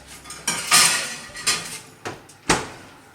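Foil-lined tray holding a pepper set into a hot broiler: a few sharp metallic clanks and rattles, one loud at the start, then lighter knocks and a final clatter, close and without talk.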